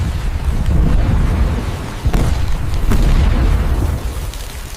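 Explosions boom in an AI-generated scene, heavy low rumbling blasts with a couple of sharper cracks, loud and dense throughout.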